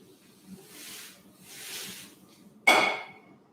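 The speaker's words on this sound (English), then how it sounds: "When you freeze with the freeze spray" Freeze spray blasts onto a chocolate Christmas showpiece in a sudden loud, close hiss that fades over a second, after softer rushing sounds.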